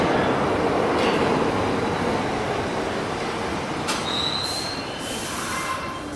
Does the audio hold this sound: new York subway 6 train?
yes